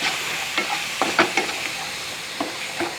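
Rasam spice powders being stirred in a pan, giving a run of short scraping, rustling stirs over a faint steady sizzle, close by with no voices.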